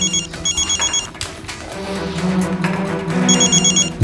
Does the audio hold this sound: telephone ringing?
yes